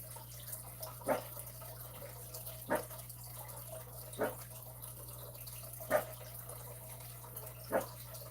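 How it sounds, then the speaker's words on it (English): A dog barks at something outside a window, giving five short, sharp, fairly faint barks spaced about a second and a half apart over a steady low indoor hum. "And just barking at something outside the window."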